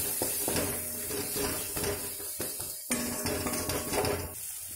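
Ground masala, turmeric, salt and chicken stirred together in a pan for egg curry, with repeated scraping and clinking of a spoon against metal over a light sizzle, close and without talk.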